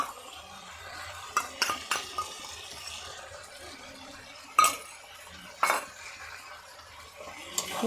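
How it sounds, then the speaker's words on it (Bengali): Spoon clinks and scrapes against a pot as ground cumin and coriander paste is stirred into desi chicken for kasha, several sharp knocks at irregular intervals over a quiet background. "ভালো করে নেড়ে কষিয়ে নেব।"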